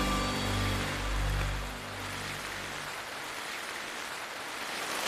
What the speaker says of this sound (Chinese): 大雨真的是， 这个雨有点突然啊。